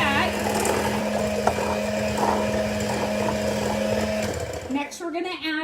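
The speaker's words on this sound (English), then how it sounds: "I am going to just cream my butter and sugar together." Electric mixer creaming butter and sugar for an apple kuchen, a steady close mechanical whir with a constant motor hum for about four seconds before it stops and a voice speaks.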